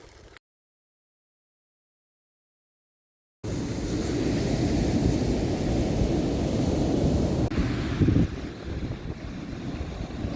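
Strong morning waves rolling and breaking at a beach, a steady loud wash of surf with wind buffeting the microphone, after a brief silent gap at the start.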